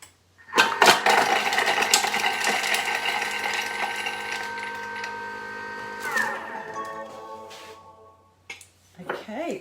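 A Thermomix whirs at speed 6 for a few seconds, chopping garlic and lemon zest in its bowl with a loud, close mechanical grinding, then winds down to quiet.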